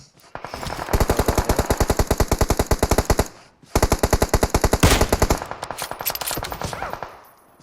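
Rapid automatic gunfire from PUBG Mobile rattles out in two long, loud bursts of evenly spaced shots, separated by a short pause and followed by scattered single shots and fading echoes.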